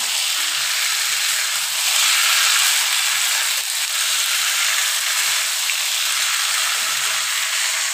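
Sautéed masala for a prawn curry hisses and sizzles loudly and steadily in the pan as water goes in, a dense, continuous frying roar heard close up without talk.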